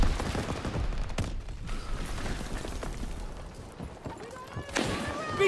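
Gunfire in the Call of Duty WWII video game, dense bursts of shots crackling across a noisy battle soundscape with mechanical clatter, continuous and fairly loud throughout, with a sharp loud burst near the end.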